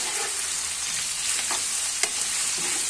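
Julienned carrots for street-style chowmein stir-fry in a hot pan, giving a constant dense sizzle with light stirring scrapes and one sharp utensil tap; no speech.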